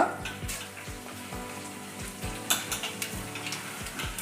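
Cumin seeds sizzling in a cup of hot oil for a Nellore-style fish curry, a steady close crackle and hiss with a repeating low stirring scrape and a few sharper pops.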